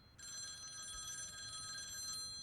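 Telephone ringing in an animated series, a steady electronic ring with a bright sustained tone that starts abruptly and continues for about two seconds, fairly faint over low background noise.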